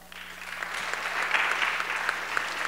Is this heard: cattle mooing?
no